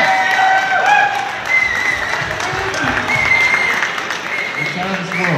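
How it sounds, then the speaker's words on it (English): An audience at a 1990s costume contest breaks into loud, sustained applause and cheering in a crowded room, with voices and music mixed under the clapping. "let's give a round of applause first to this wonderful booth over here"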